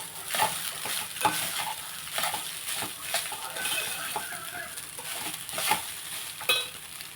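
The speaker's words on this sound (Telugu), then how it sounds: "ఇప్పుడు సాల్ట్ కూడా వేసుకుంటే బాగా కలిపేసుకుని" Salt is mixed into lemon rice in a pan with repeated close scraping and stirring strokes over a soft, continuous sizzle, with occasional light clinks of the spoon against the pan.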